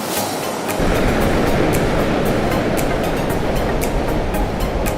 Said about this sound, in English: the waves are so big and everything's closing out so fast